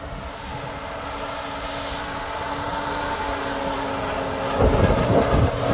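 A fertilizer boom spreader vehicle's engine runs with a steady, loud mechanical drone that builds slightly and grows rougher near the end, with no one talking.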